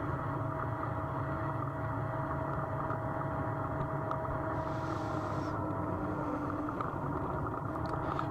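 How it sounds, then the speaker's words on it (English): Pulling tractor with a hydrostatic transmission, idling while driving into a county fair arena: a steady low engine rumble with a faint transmission whine, continuous and unchanging, heard from close by. "What you hear is the motor running, and you'll hear the hydrostatic transmission."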